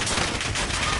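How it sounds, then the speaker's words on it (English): Dense video game gunfire aimed at the player, a loud continuous burst of rapid shots filling the whole moment without pause. "hang on, I'm getting shot at."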